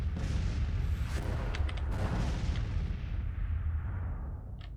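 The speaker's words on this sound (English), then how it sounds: "But this time we're gonna go on counter battery firing" Artillery counter-battery fire in Grand Tactician: The Civil War, a continuous rolling roar of cannon booms with several sharp reports standing out, loud and dense before easing slightly at the close.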